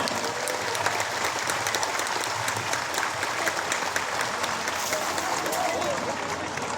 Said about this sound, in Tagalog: iparating ninyo ang init ng inyong palakpak at pasasalamat kay President Bongbong Marcos Jr